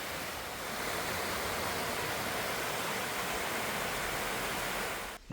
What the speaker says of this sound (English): Cool little stream down there with some waterfalls.